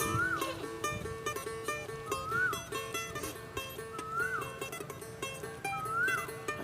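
A bird calls four times at steady intervals, each a short rising and falling note, over a busy, continuous background.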